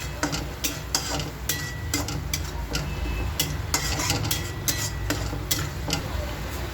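Ginger-garlic paste and salt are mixed in a pan for a spicy chicken fry curry, with repeated sharp spoon scrapes and taps at an irregular rhythm, close and moderately loud, over a faint background hiss.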